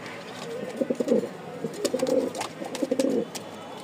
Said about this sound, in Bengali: আজকে অনেক কবুতর আছে